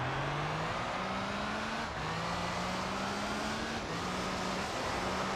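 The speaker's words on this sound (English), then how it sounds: "I can't hear you over how astronomically loud this car is." A loud race car engine from the Gran Turismo 3 video game drones steadily, its pitch climbing through gear after gear with brief dips at each shift, alone and constant throughout.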